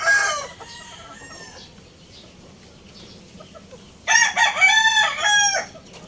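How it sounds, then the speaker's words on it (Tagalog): Roosters in a small backyard chicken pen crow twice, one near call at the start and a louder, longer crow near the end, with faint clucking between. "Ito nga pala ang maliit na manukan ko."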